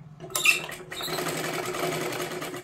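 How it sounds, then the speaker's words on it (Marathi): A sewing machine stitches a size 40 katori blouse: a brief start-up clatter, then a steady, close mechanical whir of rapid needle strokes running to the end. "ही सुद्धा कटोरी मी तुम्हाला शिलाई करून दाखवते"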